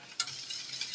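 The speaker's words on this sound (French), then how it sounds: "On remue." A spoon stirring a thick, cheesy mornay sauce in a pan: soft scraping swishes with a light tick of utensil on metal, faint and close, over a quiet low sizzle.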